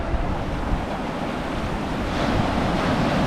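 Ocean waves wash steadily onto Sango Sands beach in Scotland, a loud continuous surf roar with wind buffeting the microphone and no voices.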